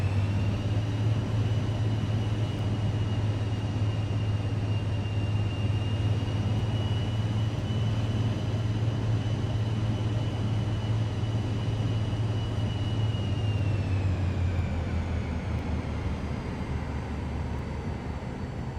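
The single jet engine of a Vision Jet in Microsoft Flight Simulator 2024 runs up to power for takeoff, a steady loud drone and whine that holds evenly, then shifts slightly in pitch near the end.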